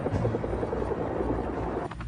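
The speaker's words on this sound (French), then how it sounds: "plusieurs hélicoptères birotors arrivent au-dessus de leur tête" Tandem-rotor Chinook military helicopters flying overhead, a continuous heavy rotor thumping and chopping drone, loud and steady.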